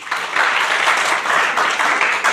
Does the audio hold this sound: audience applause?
yes